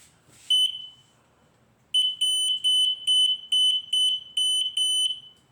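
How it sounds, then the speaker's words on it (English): An electric bike horn salvaged from another scooter, a cheap fire-alarm-style unit on a 36V 750W e-bike, gives one long shrill electronic beep, then after a pause a series of seven or eight sharp repeated beeps, loud and close. "That's me hitting the horn."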